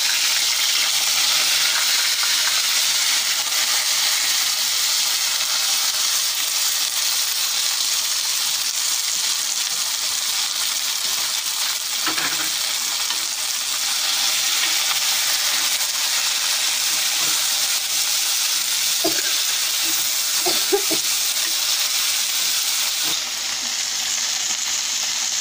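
Bhaji greens frying in a pan, a loud unbroken sizzle and hiss close by that lasts throughout, with a few brief clinks of stirring partway through.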